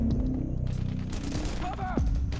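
Rapid gunfire from the PS3 game Metal Gear Solid 4 rattles on in dense bursts throughout, loud and close, with game voices shouting over the shooting and a swooping tone near the end.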